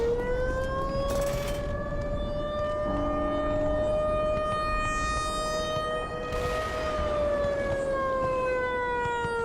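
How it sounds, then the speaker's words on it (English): A civil defense siren wails in the Black Mesa video game, a loud sustained rising-and-falling tone with rich harmonics that holds for the whole stretch, with a faint background rumble beneath. "The siren really adds to the tension of how things have escalated too."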